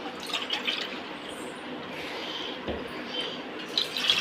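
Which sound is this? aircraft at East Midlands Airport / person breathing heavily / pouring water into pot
pouring water into pot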